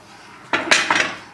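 Chopped vegetables tipped into a pot of browned lamb shanks clatter against the metal in a few quick, close scraping knocks, over a faint kitchen background.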